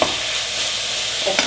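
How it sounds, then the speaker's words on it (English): Zucchini and red pepper sizzle steadily while frying in a pan for a vegetable pasta sauce, with a spoon stirring through them and a couple of brief scraping clicks near the end, close and continuous. "Add zucchini with red pepper. Stir everything."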